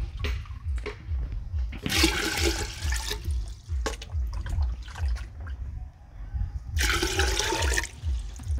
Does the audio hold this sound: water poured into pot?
yes